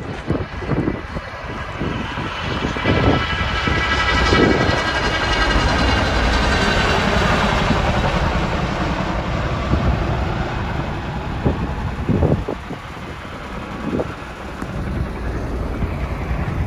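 A helicopter roars overhead during a wildfire near a ski resort, with heavy rotor thumping and wind buffeting. It swells to a loud, sustained rumble, then slowly eases off.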